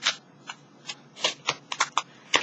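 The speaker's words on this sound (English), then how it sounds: "I'm going to shuffle this a few more times." Tarot cards are shuffled in a series of quick, crisp riffling bursts with short pauses between them, close up and fairly quiet.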